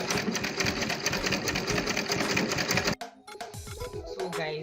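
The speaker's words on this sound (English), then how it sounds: "So let's go to our sewing machine." A sewing machine stitches a zipper onto an Ankara fabric bag, running steadily with a fast, rattling rhythm for about three seconds, then stops, leaving softer clicks and handling noises.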